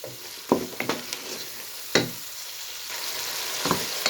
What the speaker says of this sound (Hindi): ये देखिए शलगम जो है अच्छी तरह फ्राई हो चुके हैं।